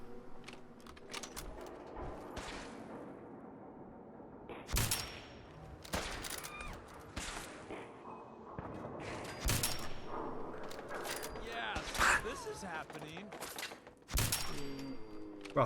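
Automatic gun turret and weapons firing during a Fallout 4 fight, sharp bursts of shots scattered irregularly over a busy, cluttered background of game noise, some loud and close, others quicker rattles.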